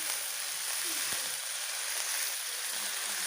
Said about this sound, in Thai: ตามด้วยน้ำมันหอย 1ช้อนโต๊ะเราจะผัดเครื่องก่อนนะครับ